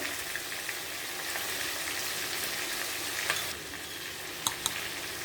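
Homemade biryani spice mix, turmeric and salt frying in hot oil give off a steady, even sizzle, with a few light stirring clicks near the end.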